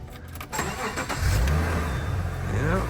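A 1992 Subaru coupe's engine cranks briefly and catches, settling into a steady, fairly loud idle with a low rumble that holds to the end.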